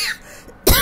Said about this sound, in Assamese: কাহ আহিছে